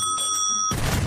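A bright bell rung by a mouse in a cartoon rings with a steady sustained tone, then cuts off into a burst of loud noisy clatter.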